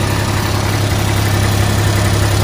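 A Kubota RTV X1140 utility vehicle's engine runs steadily with a strong low hum while its throttle linkage is pulled by hand in high gear, holding a loud, even drone with no revving swell.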